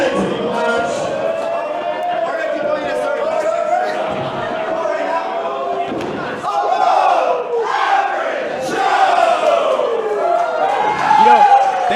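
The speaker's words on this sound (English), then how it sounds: "Listen to that ovation for the above average Joes." A packed wrestling crowd roaring an ovation for the Above Average Joes, loud sustained cheering and chanting from many voices that swells toward the end.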